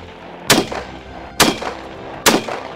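Three loud, close rifle shots fired through a muzzle brake, each a sharp crack with a short ringing tail, evenly spaced about a second apart with no talk.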